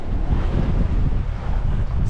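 Strong wind buffets the microphone aboard a sailboat at sea, a continuous loud rushing roar with no pauses.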